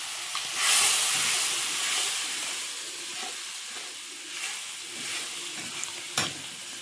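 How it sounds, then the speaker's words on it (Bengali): Spice masala with onions frying in a pan for a fish curry, a loud continuous hissing sizzle with intermittent stirring scrapes and a brief sharp knock near the end; no voices. "চলো এবার মশলাটা কষিয়ে নিই।"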